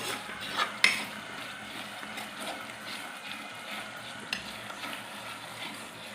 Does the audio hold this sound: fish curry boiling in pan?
yes